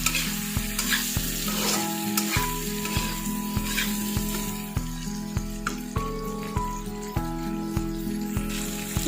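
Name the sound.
stirring and frying chicken with spice masala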